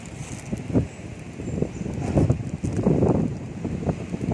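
Strong wind gusting through a village in Rajasthan, whipping up dust and dirt, roars as a steady broadband rush with heavier surges and buffeting against the microphone, no voices over it.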